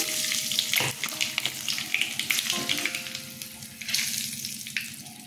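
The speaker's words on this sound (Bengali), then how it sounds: "কাঁচা লঙ্কা, কালো জিরা ফোড়ন দিয়ে দিলাম।" Green chillies and black cumin seeds sizzle and crackle in hot oil for a Bengali fish curry, a steady close frying hiss with sharp pops and a few clinks of utensils.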